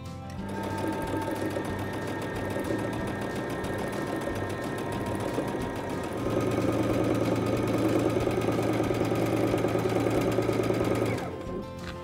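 A Baby Lock sewing machine fitted with a clear snap-on piping foot stitches piping in a steady, close mechanical whir that runs for about eleven seconds, getting slightly louder and busier midway before stopping.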